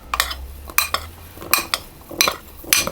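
A spoon folds blueberries into coconut muffin batter in a mixing bowl, giving about six short, close scraping and clinking strokes at a steady pace, with no talking.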